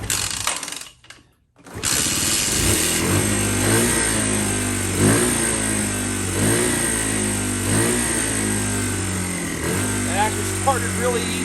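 A 2015 Lifan Pony 100cc motorcycle engine cranks briefly, catches after a short pause, then idles and revs in repeated rhythmic bursts, close and fairly loud throughout.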